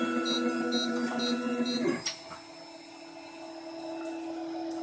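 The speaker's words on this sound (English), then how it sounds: "So it has to heat up the filament first." A 3D printer warming up before a print gives off a close mechanical whirring and humming with faint beeping tones. It cuts off sharply at about the halfway point, leaving a quiet background hum.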